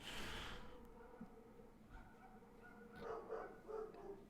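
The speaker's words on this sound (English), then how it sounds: "My dog's barking, but there's a bunch of other dogs going fucking crazy out there." Several dogs bark outdoors at a distance, faint and muffled yips and barks that rise near the end, heard from indoors over a quiet background.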